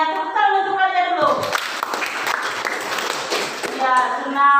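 Children clapping together in a classroom, a dense burst of hand claps lasting a few seconds between stretches of an adult voice speaking, close and fairly loud.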